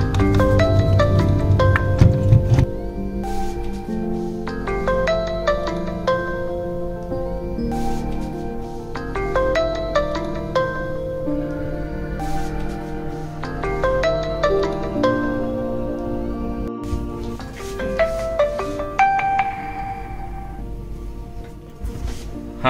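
A phone rings late at night with a melodic ringtone, its bright tune repeating steadily and fairly loud for over twenty seconds, with no one talking over it.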